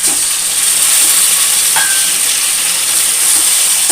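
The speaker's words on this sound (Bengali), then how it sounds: "এবার এতে আমি দিয়ে দেব সেদ্ধ করা কচুর শাক" Boiled taro greens drop into hot oil already holding garlic and chillies for a Bengali kochur shak, giving a steady, loud, close sizzling hiss that runs throughout with faint stirring, no voices.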